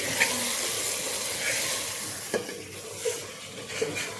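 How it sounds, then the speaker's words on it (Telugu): Washed raw chicken and rice stirred together in a hot pan, giving a continuous close hiss and sizzle with a few soft scrapes and clinks of the spoon. "కడిగి పెట్టుకున్న చికెన్ ఇలా వేసేసి రైస్ పెట్టేసి బాగా కలగచ్చేస్తాం."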